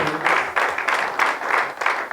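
A church congregation applauds with rhythmic clapping in regular pulses, close and moderately loud, with no talk over it.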